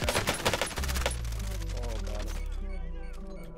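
Call of Duty Warzone gunfire, a quick burst of rapid shots at the start followed by a low rumble and game effects, with talk faintly mixed in.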